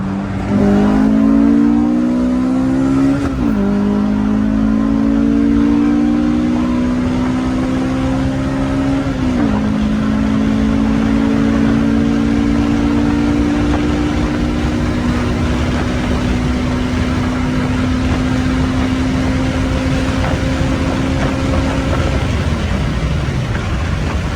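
A car engine with VTEC revs hard and loud, its pitch climbing steadily between a few sharp drops as it shifts, close and sustained with no talking.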